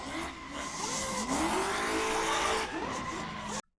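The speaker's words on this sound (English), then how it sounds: "I drifted an all-wheel drive Lancer." An all-wheel drive Mitsubishi Lancer drifts with loud, sustained tire squeal over a revving engine, the squeal sliding in pitch before cutting off abruptly.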